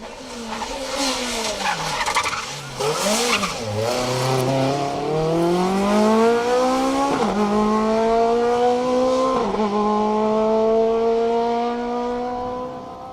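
C2-class rally cars racing through a corner on a stage at the Manx Rally, engines revving hard with rising gear pulls and tire noise, loud and close, sweeping through without any talk.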